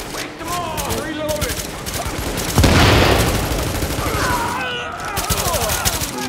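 Sustained video-game gunfire from The Division, a dense burst of automatic shots swelling into a loud roar midway before tapering, with players talking over the action.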